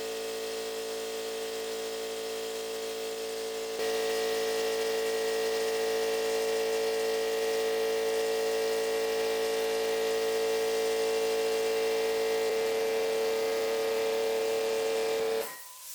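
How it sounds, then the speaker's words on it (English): Compressed air sprays primer from a spray gun at 26 PSI onto the body of a turbocharged 650HP M50-engined BMW E30, a steady close hiss with tonal hum that runs without a break for about fifteen seconds before cutting off abruptly. "I'm spraying at 26 PSI at the gun"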